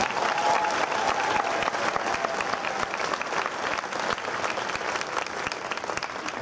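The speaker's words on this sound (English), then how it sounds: "Let's give them a big round of applause" A crowd at a marching band exhibition gives loud, dense applause for the band's assistant captains, continuous clapping from start to finish with a faint whistle early on.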